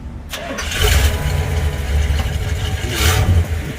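A classic car engine at the Detroit Concours 2022 cranks and catches quickly, then settles into a loud, steady, slightly rough idle close by.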